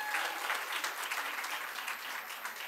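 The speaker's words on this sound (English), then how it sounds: "Let's give Audrey Pfeffer a round of applause" Brief round of applause from an audience at a Women's History Month celebration, a moderately quiet, even wash of many hands clapping throughout.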